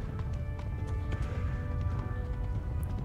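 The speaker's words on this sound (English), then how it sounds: "Eu vou galopar agora." A horse gallops in the video game Kingdom Come: Deliverance, a steady rhythmic hoof beat pounding continuously over a low ambient rumble, close and moderately loud with no talking.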